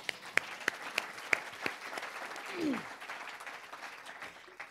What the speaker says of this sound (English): We should all applaud that.